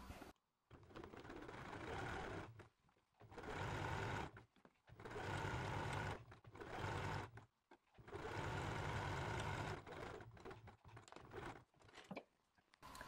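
A domestic sewing machine stitching along a fabric edge with a plastic guide foot, running in several loud, sustained bursts separated by short pauses, close and with no talking.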